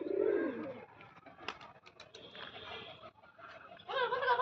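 Soft pigeon cooing starts the clip, followed by scattered faint clicks and rustles, with a brief murmur of voices near the end.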